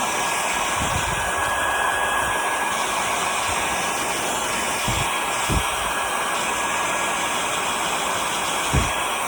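A hair dryer blows steadily and loudly at close range over chalk paint on a metal cheese grater, giving a constant whooshing roar with a few faint knocks and no voices.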